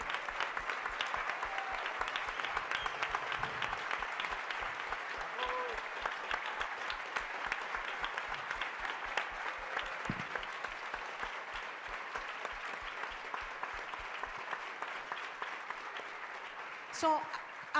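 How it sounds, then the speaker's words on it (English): Humboldt Institute staff receive steady, even clapping from a seated audience at a closing session, a continuous patter of many hands that holds at moderate loudness for most of the stretch before thinning out. "you guys deserve a big applause"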